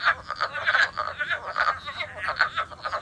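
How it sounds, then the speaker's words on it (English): Wood frogs calling in a rapid series of short, clucking, duck-like croaks, several overlapping at moderate distance in a steady, irregular chorus with no voices. "That, my friends, is a wood frog"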